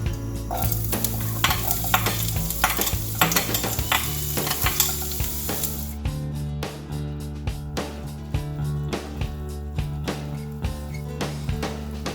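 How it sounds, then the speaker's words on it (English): Onion and minced meat frying in oil in a home kitchen pan, with steady sizzling broken by repeated sharp scrapes and clacks of stirring, close and fairly loud, and no voices. "Now it's time to fry the onion and the minced meat."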